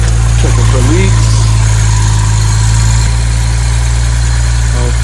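A 2015 BMW 335i with a VRSF catless downpipe and muffler delete idles steadily with a deep low rumble close by, while people talk over it.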